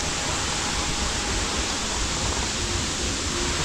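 Water trickles down a small waterfall in a secluded creek in Bali, giving a steady, dense, broadband rush that holds unchanged and fairly close throughout, with no voices.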